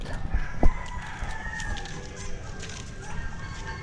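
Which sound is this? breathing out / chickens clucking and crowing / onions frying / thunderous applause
chickens clucking and crowing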